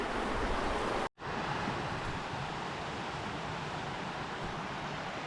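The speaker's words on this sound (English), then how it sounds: "The little creek to the left and the big creek to the right." A creek on the Black Forest Trail in Pennsylvania rushes steadily nearby, a broad continuous wash of flowing water with one brief dropout near the start and no voices.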